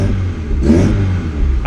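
A vintage Alfa Romeo Giulia Sprint GT engine, still missing on one cylinder, idling roughly close by with a brief rev surge in the middle, under a voice speaking.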